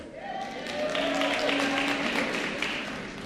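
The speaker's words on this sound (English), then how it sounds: "I knew you would applaud that." Applause rises from a crowd at a national convention in South Africa, a dense patter of clapping that swells and holds steady, with a voice faintly heard over it.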